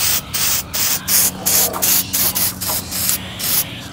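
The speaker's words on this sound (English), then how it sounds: "You notice I just do little spot sprays." Short bursts of spray paint from an aerosol can onto a Halloween-style prop, a string of about a dozen brief, loud hissing puffs in an uneven stop-start rhythm, heard close and without talk.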